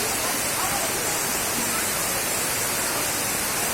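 Water pours steadily at Elephant Falls in Silong, a dense, even rushing roar that stays constant throughout, close and fairly loud.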